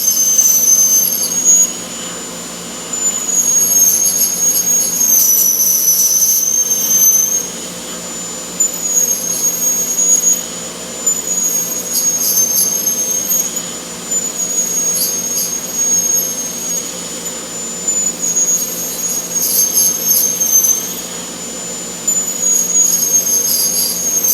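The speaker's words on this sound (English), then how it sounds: "you can see how smooth that machine runs because it turns so fast." A high-speed woodturning piercing machine runs continuously with a loud, piercing high whine that wavers slightly in pitch, over a steady hum, with brief dips and surges as the tool works the wood.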